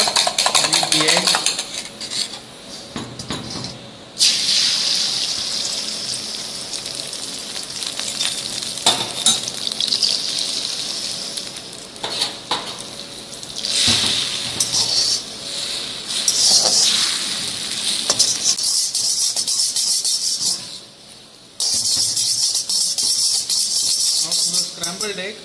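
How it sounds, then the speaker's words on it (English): An egg fries in hot sesame oil in a wok, giving a steady, loud sizzle that runs throughout, with occasional clinks and scrapes of a utensil against the pan and a brief dip in the hiss near the end. "Once the oil is nice and hot, add the egg."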